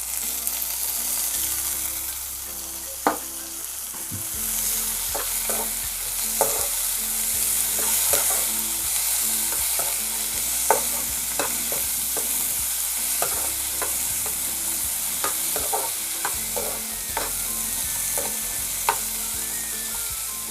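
Chopped tomatoes stirred into frying fenugreek leaves (methi bhaji) in a pan, with a steady sizzle and a scatter of sharp spoon scrapes and clicks spread through the whole stretch, fairly close and with no talking.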